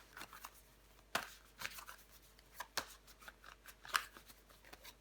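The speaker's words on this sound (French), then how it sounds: "On va recouvrir des cartes." Tarot cards handled and turned over on a table, with several quiet sharp flicks and slaps spaced irregularly over faint rustling, close and soft.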